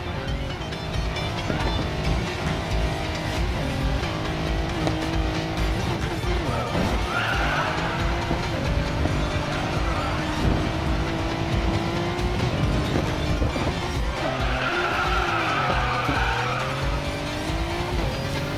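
A Bugatti drifts in a racing video game, its engine roaring loudly and steadily while tires squeal in drawn-out skids, louder around the middle and near the end.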